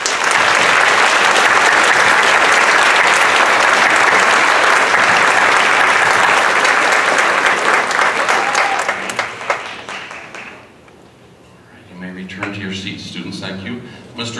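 Loud, sustained applause from a large audience at a fifth-grade moving-up ceremony fills most of the clip, then fades out near the end as a voice begins speaking.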